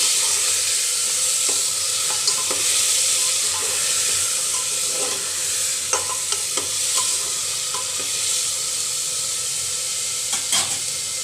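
Potatoes and chickpeas frying in a pan for chole make a loud, close, steady sizzling hiss, dotted with occasional light crackles and stirring clicks, with no voices.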